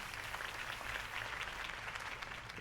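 A crowd in the Batman Telltale video game applauds after a campaign speech, a steady, fairly faint wash of clapping that carries on the whole time with no voices on top.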